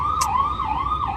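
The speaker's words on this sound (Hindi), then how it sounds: "एम्बुलेंस आ रहा है" An ambulance siren wails along a street, its pitch rising and falling in a steady oscillating sweep at moderate distance, heard alone with faint traffic underneath.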